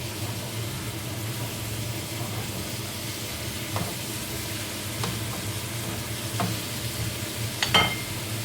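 Beef and onion sizzle steadily in a pot, a continuous near frying hiss with a few soft scrapes and clinks of stirring scattered through, no talk.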